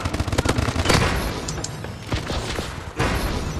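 Rapid automatic gunfire and bursts of shots from the Call of Duty: Advanced Warfare multiplayer match, dense and loud with thuds and explosive booms, a voice briefly audible underneath.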